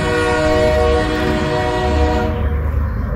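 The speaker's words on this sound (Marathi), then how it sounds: "तर 1 तास वाट पाहिल्यानंतर अखेरीस आमची ट्रेन आली" A passenger train arriving at a station sounds a loud, sustained horn over deep rumbling from the rail cars. The horn is close and dominant, and the upper tones fade near the end.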